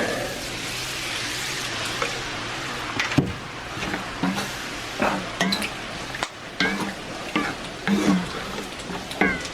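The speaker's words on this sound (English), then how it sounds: "stir in the milk" Milk being stirred into a sizzling pan for a fried burger, with steady frying hiss beneath repeated scraping stirs and occasional clinks of utensil on pan, close and fairly loud.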